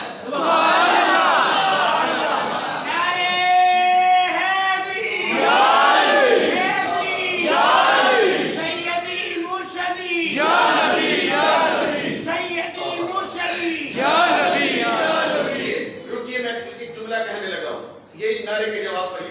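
A large religious gathering in Gujranwala shouts the devotional response to a call, many voices roaring together in loud, rhythmic bursts that rise and fall over about twenty seconds.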